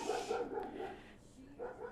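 Dogs barking in short bursts a little way off while people talk nearby during gingerbread cookie decorating, several yaps standing out over the chatter.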